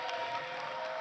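Studio audience at an NBA House live event applauding, a brief steady wash of clapping with faint crowd noise behind it.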